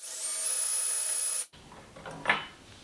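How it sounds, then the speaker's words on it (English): A cordless drill fitted with a Vix bit pre-drilling a hole in a hexagon floating wall shelf, a steady high whine for about a second and a half that stops abruptly, followed by faint handling noises. "now I'll just take my drill with the Vix Bit"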